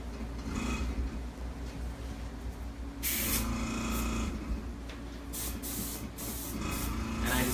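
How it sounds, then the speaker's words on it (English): Steady, close hiss of an electric airbrush spraying yellow food color onto a pineapple-shaped cake, running continuously with a few brief bursts of stronger spray and a low motor hum underneath. "Fill my airbrush with a little bit of yellow airbrush color, that is."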